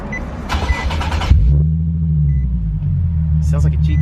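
Nissan 370Z engine cranking and catching after a start button upgrade, a brief whir then a loud idle rumble settling steadily, with rattling before the start and a short spoken remark near the end.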